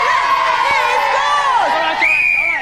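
Excited crowd cheering and whooping at a tabletop football match as a free kick clinches the game, loud and sustained with shrill rising shouts.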